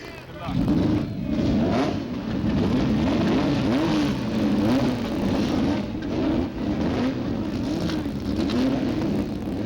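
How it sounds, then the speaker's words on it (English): Formula Atlantic race car engines rumble and rev steadily throughout at a 1975 race start, a dense mechanical roar with rising and falling pitch, while crowd noise or a voice sits faintly underneath. "Gentlemen, start your engines."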